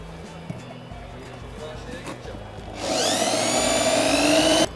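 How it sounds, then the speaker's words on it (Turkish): A power drill fitted with a bit drilling into metal, with faint handling and clicks at first, then a loud rising whine from the motor under load near the end. "Şimdi ucumuzu takıyoruz. Metal delimini gerçekleştireceğiz."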